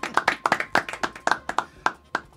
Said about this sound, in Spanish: Aplauso para Cuti.